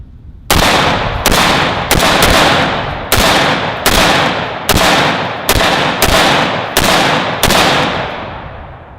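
Sharp, loud rifle shots from a Saint Victor 5.56 rifle being sighted in, about ten evenly spaced cracks, each with a short decaying echo, fired one after another at a steady pace with no talking between them.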